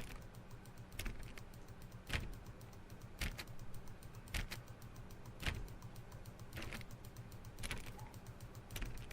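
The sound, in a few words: mouse clicking while playing Stanley Parable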